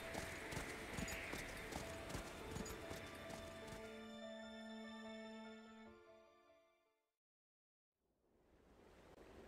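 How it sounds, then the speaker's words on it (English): Horse hooves clip-clop steadily in the video game Octopath Traveler 2, close and fairly loud over a musical backdrop, then fading out into a brief silence before ambient sound returns. "I wish I could keep this horse, though."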